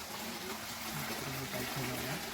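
Natural spring water flows steadily a minute or two from a temple, a continuous rushing wash with voices talking over it.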